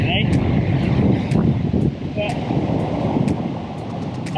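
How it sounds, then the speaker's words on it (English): Strong wind at the sea during a paddleboarding session, a steady loud roar of gusts buffeting the microphone over crashing surf, constant throughout with slight dips. "It's really quite windy today."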